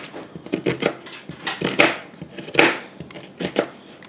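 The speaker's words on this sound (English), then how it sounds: "Cut this in small pieces." A knife chops cabbage into small pieces on a cutting board, with about ten sharp, evenly spaced knocks sounding close and clear, and no voices.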